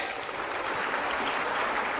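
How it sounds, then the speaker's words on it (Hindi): Dense, steady applause from a large audience at a public celebration and religious gathering, a continuous broadband clatter of many hands filling the whole stretch without pause. "तालियों की गगनभेदी गड़गड़ाहट से जोरदार अभिवादन करें"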